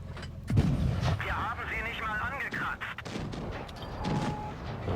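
Gunfire and impacts in the tank game World of Tanks Blitz, a Pz IV G against a Gargoyle, with booming shots and a metallic ricochet ring under steady battle rumble and a commentator's voice.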